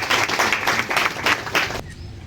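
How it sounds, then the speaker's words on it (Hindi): An audience at a national children's consultation event clapping loudly together, a dense pulsing burst of hand claps lasting under two seconds before cutting off abruptly to near silence. "एक बार जोर से ताली बजाएंगे हम अपने लिए"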